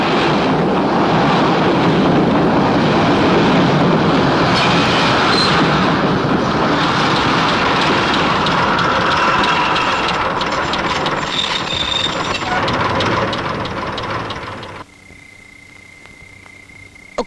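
A moving train rolls along with a loud, steady rumble and rattle, the clatter continuing unbroken for most of the stretch before dropping abruptly to a quiet hum near the end.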